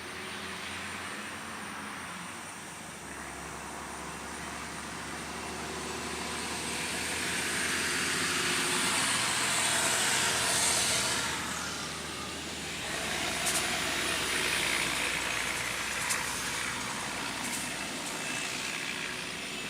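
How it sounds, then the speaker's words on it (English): A truck drives past a southern home garden, its broad engine rumble and tyre roar rising slowly, peaking mid-way, then easing off over about twenty seconds, with no talking. "Here comes another truck. It might get loud."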